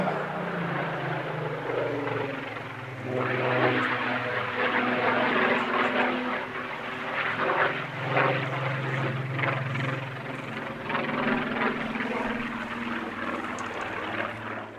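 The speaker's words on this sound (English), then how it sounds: "The Rolls-Royce Heritage Flight's Spitfire PR19, flown here by Chris Hadlow." A Rolls-Royce Heritage Flight Spitfire PR19 piston-engined propeller aircraft flies past at an airshow, its steady engine drone holding fairly loud throughout with a gentle rise and fall as it passes.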